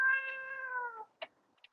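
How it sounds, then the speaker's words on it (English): A single long, drawn-out cat meow with a complaining, unhappy tone, followed by a couple of short faint rustles. "That one's not a happy cat."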